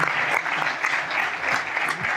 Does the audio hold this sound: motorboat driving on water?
no